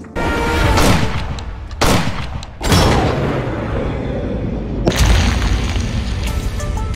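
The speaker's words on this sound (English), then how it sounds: "I'll shoot it. I have waited half of my life to shoot a Boutet." An antique Boutet firearm fires repeated loud, close booming gunshots, several heavy blasts in a row with long ringing decay between them and no talking.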